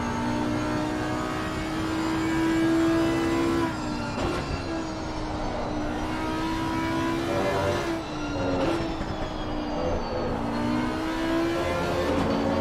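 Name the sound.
Audi race car engine onboard, from video game Assetto Corsa Competizione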